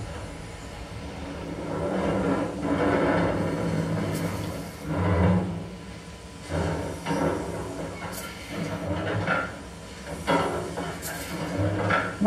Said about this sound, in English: May just notice a little bit of funny noise just as the engine starts up.